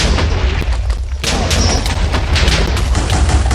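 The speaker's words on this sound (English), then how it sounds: "right clicking the power activate button will create an explosion in front of you" Explosions triggered by an explosive superpower in Minecraft make a dense, loud, booming roar that rumbles on with repeated blasts throughout, briefly thinning before surging again.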